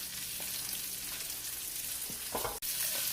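Bratwurst browning in a pan, a continuous hiss of frying with a few louder pops and shifting sounds near the end, no one speaking.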